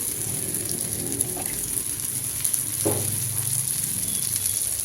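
Egg paniyaram batter frying in oil gives a steady, fine crackling sizzle throughout, with a few faint clinks of a utensil against the pan.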